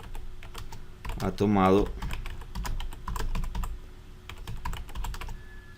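Keystrokes on a computer keyboard while entering a comment in office software, a steady run of close, light clicks with a brief spoken phrase in Spanish over them partway through.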